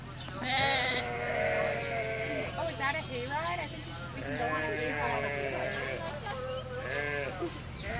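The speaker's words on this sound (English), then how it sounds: "It's called a baby doll sheep" Babydoll sheep bleat at a farm, several wavering calls in a row up close, mixed with people talking over a steady low background hum.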